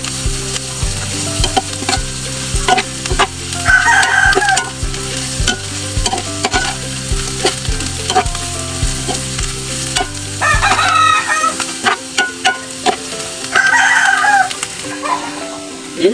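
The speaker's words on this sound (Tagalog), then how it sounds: "Haluin ko lang po to" A utensil stirs bitter gourd sizzling in a frying pan, with scraping strokes over steady frying close by and a rooster crowing several times in the background.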